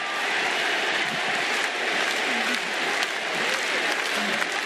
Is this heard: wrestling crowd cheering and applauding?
yes